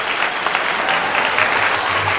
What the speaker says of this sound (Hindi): तो आप कैसी तालियां बजाएंगे एक बार जोरदार बजा के बताओ